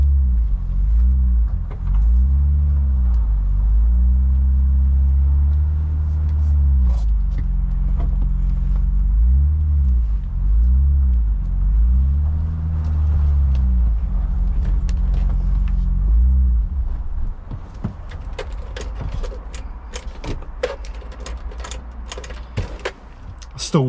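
An old BMW E30 320i idles steadily up close with a low, even engine drone, then stumbles and falls quieter toward the end as clicks and handling noises take over.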